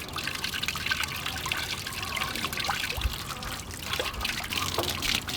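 Water drains from an RV water heater in a steady, moderately loud trickle and splash that runs throughout with no pauses.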